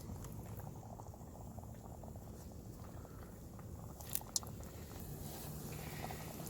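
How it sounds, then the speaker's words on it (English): Ring-shaped donut dough fries in hot grease in a Stanley Adventure Prep and Cook Set pot, giving a steady, close bubbling crackle that stays even throughout, with a couple of faint ticks near the end. "And you put it in the grease."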